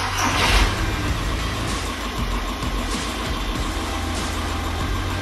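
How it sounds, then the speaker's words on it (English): Volkswagen Jetta TDI diesel engine starting with an initial surge, then settling into a steady, close, continuous idle rumble with no talk. "I'm just going to start the car up and see how it does."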